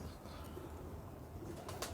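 Pet pigeons kept on a Karachi rooftop loft coo softly and faintly over a steady background hiss, with a brief flutter near the end.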